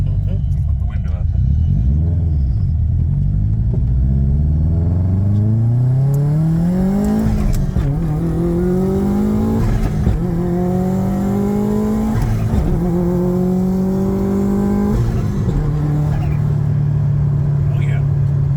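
A 505 HP 2005 Subaru STI with a turbo engine accelerates hard through several gears, loud and close from inside the car, each pull rising in pitch before dropping at the shift, with speech heard over it.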